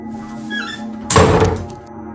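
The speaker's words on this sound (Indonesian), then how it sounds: "pintu di belakangnya membanting sendiri" A heavy door slams shut with a dull thud partway through, over a steady low hum of tofu factory machinery.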